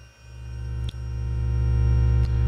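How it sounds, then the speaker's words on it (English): Raw synthesizer oscillators with no added effects play two sustained notes, a steady harmonic-rich tone with brief breaks around one second and a little past two seconds, fairly loud and alone. "this is the sound, the raw sound of the oscillators"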